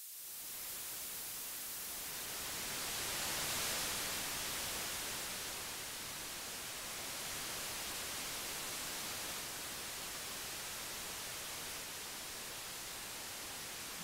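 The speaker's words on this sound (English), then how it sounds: "We can add white noise through this track and hear the filter in action." White noise fed through a first-order FIR digital filter, heard as a steady broadband hiss that swells slightly in the first seconds and then holds even and continuous, with no voices.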